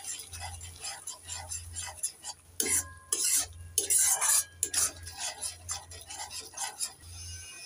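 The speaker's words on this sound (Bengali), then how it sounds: "একটু নেড়ে চেড়ে দিয়ে দেব" Cashew paste being stirred into spices in a pan, with a spoon scraping and clinking against the metal in irregular strokes, close and moderately loud, over a steady low hum.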